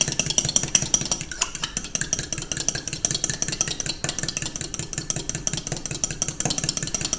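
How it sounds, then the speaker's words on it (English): An egg is whisked quickly in a bowl for muffin batter, a rapid, continuous scratchy rattle with a busy, even rhythm, close up. "Give that egg a quick whisk."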